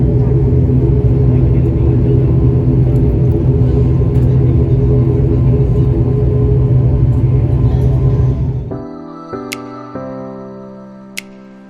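Small airplane engine droning loudly and steadily during takeoff from Maamigili Airport in the Maldives, a dense continuous rumble that suddenly drops away near the end, leaving a quieter cabin hum with faint clicks.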